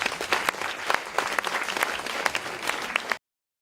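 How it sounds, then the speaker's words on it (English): Audience at a live-streamed panel event applauding themselves, a brisk, even burst of clapping with a few sharp individual claps, stopping abruptly after about three seconds. "Give yourselves a round of applause"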